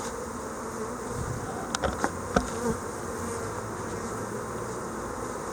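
Honey bees at an open hive during a queen cell inspection make a dense, continuous close buzz, with a few sharp clicks and knocks of frames handled partway through and no talk.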